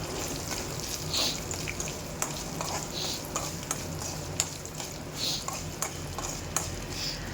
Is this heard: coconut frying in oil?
yes